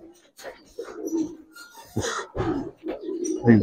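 Giribaz silver pigeons coo in repeated low rolling phrases, mixed with wing flutters and sharp knocks, while a voice talks nearby.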